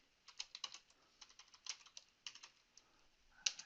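A short network switch command is entered on a computer keyboard, the soft keystrokes coming in quick, uneven clusters and ending in one sharper final press, quiet and close with no talking.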